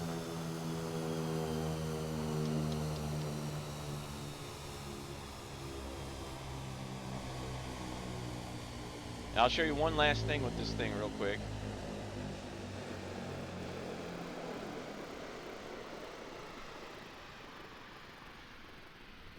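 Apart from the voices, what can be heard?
Daher Kodiak 100 propeller engine after power pulled back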